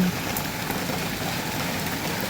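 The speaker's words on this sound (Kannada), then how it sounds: "ಆ್ಯಕ್ಚುಲಿ ಭಾಳ ಜೋರು ಬರತೈತಿ ಮಳಿ" Rain pours down steadily, a continuous dense patter close by with no voices.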